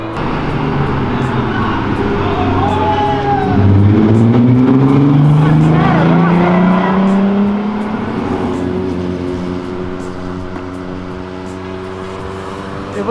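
A drift car accelerates hard, its loud engine roaring close and climbing in pitch before easing off, with people talking over the sound.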